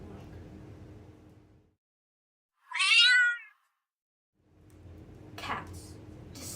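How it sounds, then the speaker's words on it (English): A single cat meows once, short and upward-sliding, clear against silence, with faint background hum and noise before and after. "Cats. Despicable creatures."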